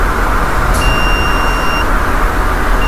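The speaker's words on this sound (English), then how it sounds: "It's a 1 second beep of buzzer" A buzzer on a circuit board gives a thin, high electronic beep once for about a second over a steady, loud background rumble.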